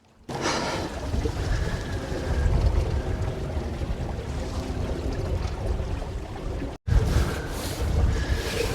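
A small sailboat running home on a light breeze near Sussex Inlet and St Georges Basin, with steady wind rush over the microphone and soft water wash along the hull, unbroken apart from one brief dropout.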